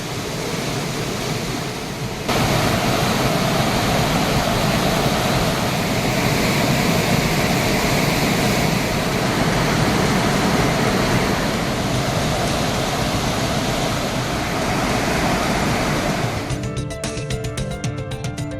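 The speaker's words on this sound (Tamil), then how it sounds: "பரளியாறு, கோதையாறு மற்றும் தாமிரபரணி ஆற்றில் தண்ணீர் பெருக்கெடுத்து ஓடுகிறது" Floodwater surging through the swollen Paraliyar, Kodaiyar and Thamirabarani rivers, a loud, steady broadband roar that holds unbroken for most of the stretch before cutting into a different texture near the end.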